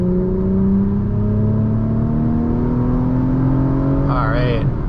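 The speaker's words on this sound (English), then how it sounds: "It sounds like a really nice, aggressive engine." A 2023 Acura TLX Type S engine pulls steadily on the highway, a continuous rising drone with a rough low tone that holds for the whole stretch, close and fairly loud, with a brief higher whine near the end.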